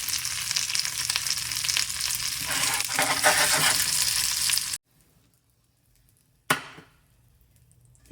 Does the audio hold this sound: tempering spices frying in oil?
yes